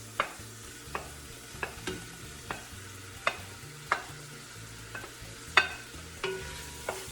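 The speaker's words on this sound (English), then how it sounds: "I'm going to be adding the rest of the veggies, so the red pepper, yellow pepper, and jalapeno, all together at once." Red pepper, yellow pepper and jalapeno sizzle softly in a pot while a utensil stirs them, scraping and knocking against the pot at a steady, roughly once-per-second pace, close up.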